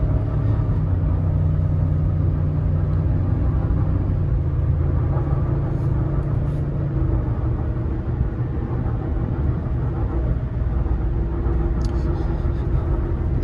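Steady, loud engine and road rumble from a 2021 Ford F-150 pickup accelerating up a highway on-ramp, heard from inside the cab as a continuous low drone with a brief tonal shift partway through.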